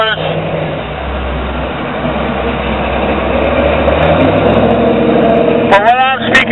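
Car engines rumble and rev loudly through their mufflers on a Daytona Beach street, a steady low growl that swells toward the end, with voices mixed in.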